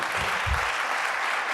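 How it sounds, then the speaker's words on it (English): Applause from an audience at an alumni association leadership conference, a dense steady wash of clapping filling the short stretch, fairly loud, with a couple of low thumps near the start. "Please give a round of applause to Chris Stevens."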